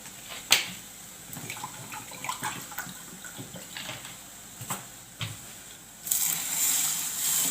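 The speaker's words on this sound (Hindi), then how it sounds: "इन सब तमाम मसालों को मिक्स करने के बाद इसमें हम पानी शामिल करेंगे।" About two cups of water is poured into chana dal mixed with spices, a loud gushing splash arriving near the end after scattered clinks and stirring taps.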